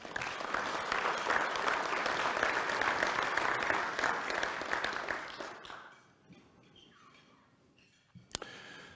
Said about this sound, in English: So how about a round of applause for all of them?